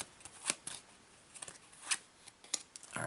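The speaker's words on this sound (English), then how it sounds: "let's shuffle these up real quick" A deck of playing cards is shuffled during a board game, giving soft riffling swishes and several sharp snaps at irregular intervals, quiet and close.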